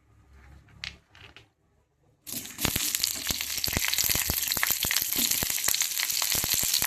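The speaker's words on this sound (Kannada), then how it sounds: "ಸ್ವಲ್ಪ ಎಣ್ಣೆ ಹಾಕ್ಕೊಂಡು ಈಗ ಮೊದಲು ಉಳ್ಳಾಗಡ್ಡಿ ಸೇರಿಸ್ಕೊತೇನೆ ರೀ" Chopped onion dropped into hot oil in a pan for tomato chutney, bursting into a loud, dense sizzle with crackling pops after a few quiet clinks, continuing steadily and close.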